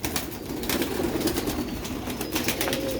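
Young black-faced pigeons, Sialkoti birds kept for sale, coo softly in a morning setting, with low repeated coos under scattered rustling and handling noises at close range.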